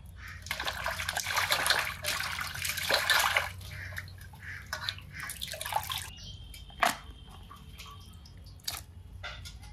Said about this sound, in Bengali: মুরগিটা কাটা হয়ে গেছে, এখন 2-1 বার পরিষ্কার করে ধুয়ে নেব